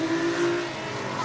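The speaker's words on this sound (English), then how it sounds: "Sounds like he's really working that car, that 350Z" A Nissan 350Z drift car's engine strains hard at high revs during a drift series qualifying run, a brief sustained mechanical roar carrying over distant crowd and track ambience.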